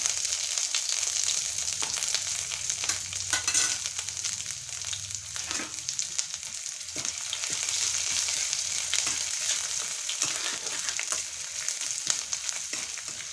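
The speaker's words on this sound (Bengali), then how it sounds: "আমি দিয়ে দিচ্ছি আদা বাটা রসুন বাটা আর তেজপাতা" Ginger paste, garlic paste and bay leaves frying in hot oil for a bottle gourd pickle make a loud, continuous sizzle close up, with occasional soft scrapes of a spoon through it.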